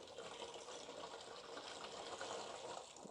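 A window mop soaked in cleaning solution drains off, giving a faint, steady, hissy trickle of dripping liquid with no talking.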